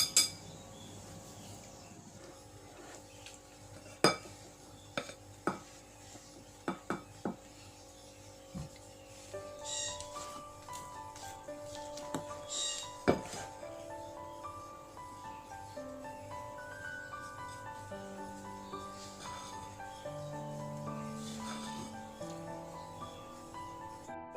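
Soft cookie batter being stirred in a bowl, with a spoon or utensil clinking sharply against the sides in irregular taps, followed by a steadier stretch of faint scraping and mixing.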